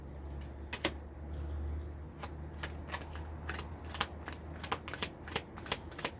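Tarot cards are shuffled and drawn, producing a run of crisp, close riffling flicks and snaps in quick irregular bursts over a steady low hum.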